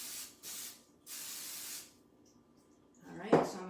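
Cooking spray hissing onto a mini Dash waffle maker in three bursts, two short and one longer, followed by a louder clattering knock near the end.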